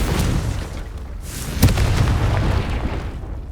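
A Confringo blasting curse goes off in Hogwarts Legacy: a boomy explosion with a sharp crack at its peak, then a rumbling tail under steady game ambience.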